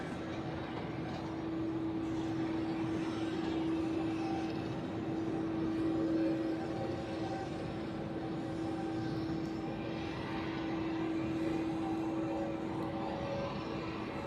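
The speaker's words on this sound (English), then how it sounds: "The 767 of United Airlines." A United Airlines Boeing 767 airliner passes at Zurich airport, heard as a steady, distant jet roar with a faint sustained engine tone that holds at a fairly even level throughout.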